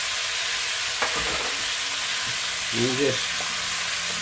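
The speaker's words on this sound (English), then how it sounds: "saute them for a few minutes till they're softened" Chopped onions sauté in a pan with a soft, steady sizzle, stirred now and then while a voice speaks briefly over the cooking.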